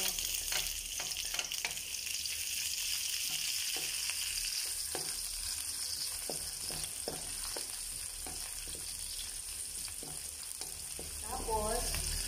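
Onions sizzling in a pan after garlic while sautéing ginisang ampalaya with egg, a continuous crackling fry with repeated utensil stirs and clinks, fairly quiet and close, no talking.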